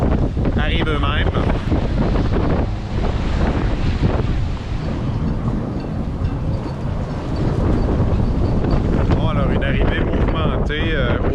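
Strong wind buffets the microphone at a sailboat fuel dock in Hampton, a steady roar with gusting rushes throughout, and a voice is briefly heard beneath it.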